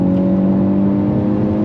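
A Hyundai Elantra N with its 8-speed DCT pulls away under throttle, engine droning loud and steady from inside the cabin, a sustained close tone without a clear shift in this short stretch.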